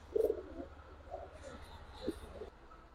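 Soft coos of Giribaz pigeons in a few short bursts, fairly close, with a faint low hum underneath.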